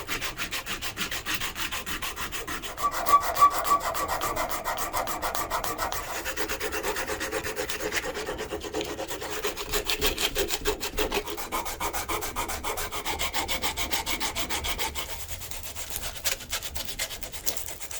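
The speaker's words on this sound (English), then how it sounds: "I'm where I want to be with the rough sandpaper and the rough filing" Steady rasping rub of sandpaper and a file shaping the Micarta handle of a Marble's fixed-blade Nessmuk knife, continuous and close, with no talk.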